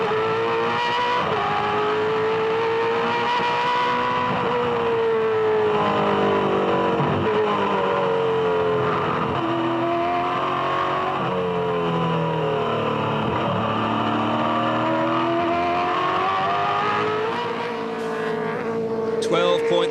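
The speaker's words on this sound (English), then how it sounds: "Let's have a listen to the Castrol Perkins car as he chases these 3 cars ahead of him." A Castrol Perkins V8 Supercar heard onboard at Eastern Creek in 2004 while chasing three cars, its engine roaring loud and continuous, rising and falling through gear changes and revs, with commentary voices underneath.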